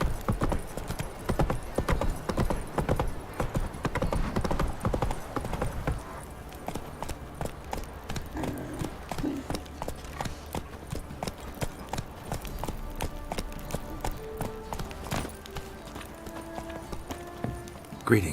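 Horse hooves clip-clop steadily in The Witcher 3 video game, a dense rhythmic run of hoofbeats that is loudest early on and eases to a lighter, sparser trot later, with ambient game sounds behind.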